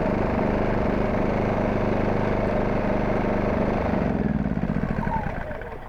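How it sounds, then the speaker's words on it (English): A Wen 56235i 2350-watt inverter generator drones steadily at close range with its fuel shut off, then sputters and fades as the carburetor runs dry and it shuts down. "This will run the fuel out of the carburetor before the generator shuts down."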